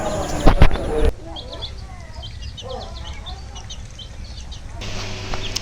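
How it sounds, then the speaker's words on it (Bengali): Small chicks of a village flock peep and cluck in a quick, thin scatter of calls through the middle of the stretch, fairly close but soft, with louder handling noise at the start and end. "মুরগির বাচ্চা যখন ছোট ছিল সেই সময়কার ভিডিও এটা"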